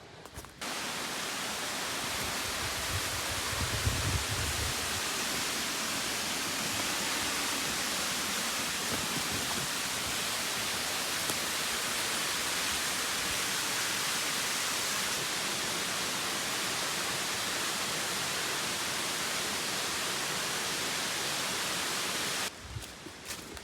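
Jones Falls waterfall on the Appalachian Trail in Tennessee roars as a dense, steady rush of falling water that stays constant and close throughout, with nothing else breaking through.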